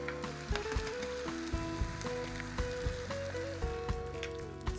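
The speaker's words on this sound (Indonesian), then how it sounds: "saya akan masak 2 telur yang akan saya orak-arik." Two eggs sizzle steadily in a hot pan as they are scrambled, a close, moderately quiet crackle with occasional sharper pops and scraping taps.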